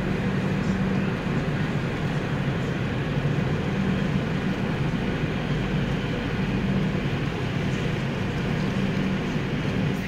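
Steady low rumble and hum from the 12863 SMVT Bengaluru Super Fast Express standing at Telipiti Gudam station in West Godavari, Andhra Pradesh, a continuous even drone with no talk.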